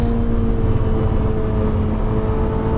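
Honda CRX engine held at full throttle on the Nürburgring, heard from inside the car as a loud, steady droning hum with a constant pitch and no talk.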